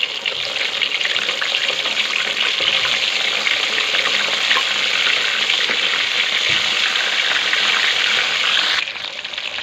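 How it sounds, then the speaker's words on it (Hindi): Fish pieces for a fish curry fry in a pan with a constant, close crackling sizzle that continues for about nine seconds and drops off abruptly near the end. "अब दूसरी बारी को भी हम ऐसे ही फ्राई करेंगे।"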